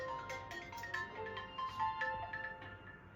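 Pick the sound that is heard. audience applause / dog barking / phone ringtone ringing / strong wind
phone ringtone ringing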